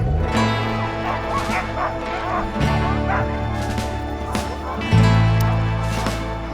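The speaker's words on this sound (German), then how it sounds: "Während die Hunde in der Nacht absolut still sind, gibt es eine Tageszeit, da versteht man auf der Husky Farm kaum noch sein eigenes Wort" Huskies at feeding time on a husky farm, a dense chorus of barking, yelping and whining from many dogs at once, loud and continuous throughout with a surge near the end.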